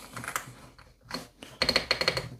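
Keycaps snapping onto an AULA F75 mechanical keyboard: a few scattered soft clicks, then a quick run of about eight sharp, close plastic clacks.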